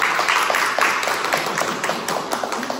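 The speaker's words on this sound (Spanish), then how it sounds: "Y también un aplauso por favor para Luis González Quispe." An audience applauds at a graduation-themed talk show, a steady, dense patter of many hands with sharper claps standing out in a loose rhythm, continuous throughout and close by.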